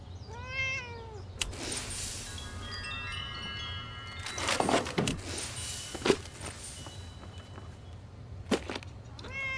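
A cat in the game Fallout 76 meows several times in a rising and falling pitch, fairly close, with jangling metallic clatter and scattered bangs in between and a low vehicle-like hum underneath.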